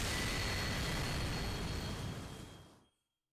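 A supernova explosion in the video game Fate/Grand Order erupts as a dense, loud roaring blast that sustains for over two seconds, then fades quickly into silence, with no voices.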